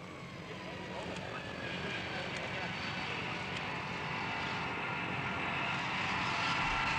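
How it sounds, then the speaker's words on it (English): A giant Lockheed C-5A transport plane flies into Saigon airport, its engines a broad, steady roar that swells gradually louder over several seconds, with no clear speech. "the giant C-5A transporter, flies into Saigon airport with the latest shipment"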